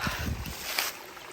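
A small creek beside a forest side trail runs with a steady, broad rushing wash, and low wind gusts buffet the microphone through the first half.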